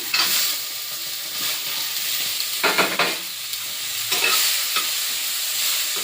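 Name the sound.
tomatoes added to pan, stirring and frying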